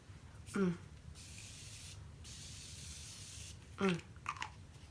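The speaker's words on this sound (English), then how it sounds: "I'm gonna be using the Morphe Continuous Setting Spray." A soft, steady hiss of fine mist from Morphe Continuous Setting Spray sprays for a couple of seconds, bracketed by brief nearby clicks and rattles from handling the bottle.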